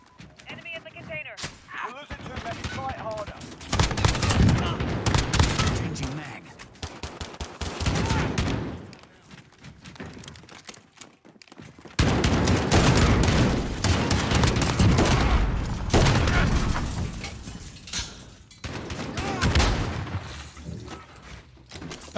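Bursts of automatic gunfire in an online multiplayer shooter, loud rapid rattling volleys broken by short pauses and reload gaps, with a voice talking over parts of the action.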